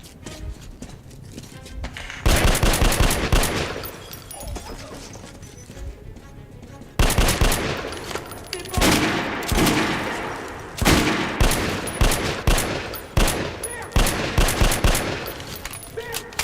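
Rapid automatic gunfire in the shooter game Metro Last Light Redux during a boat chase, loud bursts of machine gun fire starting and stopping repeatedly, with game noise in between.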